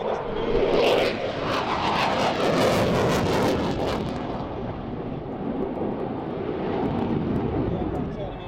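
The Avro Vulcan XH558 bomber banks through a tight turn at the 2008 Waddington air display, its engines a loud, crackling roar at first that settles into a lower, duller rumble.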